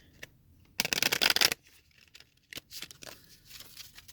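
Close, crisp riffle shuffle of a Radlands camp deck: a single loud burst of flicking cards lasting under a second, then scattered soft taps and card handling.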